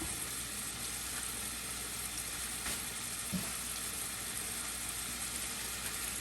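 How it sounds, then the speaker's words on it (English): Chicken pieces sizzle and crackle steadily in a hot pan for a stir fry, a close, even frying hiss with no talking. "now that my chicken is sizzling"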